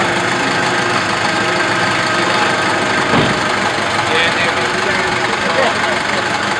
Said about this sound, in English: I'll show you how to start the car